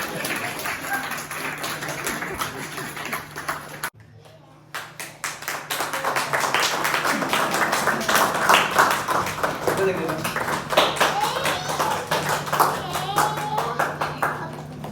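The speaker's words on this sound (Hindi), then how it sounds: "महिला अस्पताल के चाचा जी के लिए जोरदार तालियां।" Applause at a retirement farewell party: a room of people clapping, which breaks off briefly and then resumes louder and denser, with voices mixed in.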